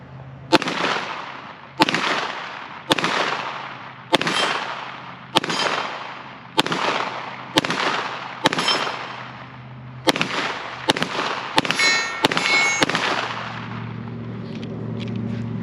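A Springfield Prodigy 9mm 1911 pistol fires about fourteen loud, sharp shots outdoors, spaced roughly a second apart at first and then coming in a quicker cluster near the end, each one followed by a short decay.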